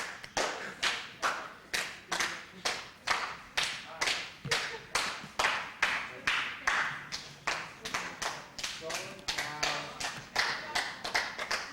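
A clapping toy snaps together in a steady rhythm, about two sharp claps per second, repeated continuously at moderate loudness with faint room sound between strikes.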